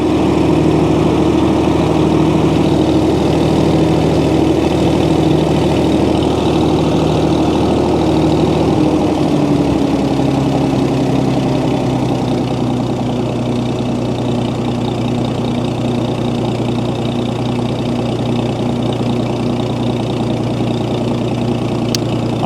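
A 1937 Oliver Hart Parr 70 tractor engine runs steadily at a loud, close idle with its PTO turning, the low throbbing drone shifting slightly in pitch partway through and continuing without speech.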